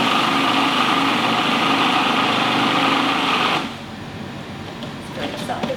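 An electric food processor whirs loudly, crushing biscuits into crumbs for a pastry-like base, a high, steady motor drone that stops abruptly partway through, followed by quieter rattling and kitchen sounds.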